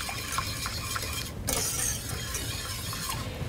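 A spoon stirs honey and sea salt into a dark chocolate mixture in a bowl, with a steady scraping swirl and light clinks throughout, close and fairly quiet.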